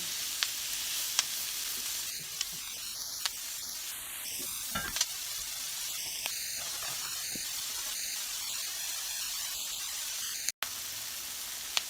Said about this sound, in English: my first round of veggies have been sauteing for a bit